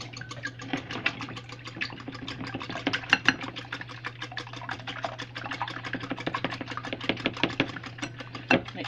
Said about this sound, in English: And I'll get a whisk here.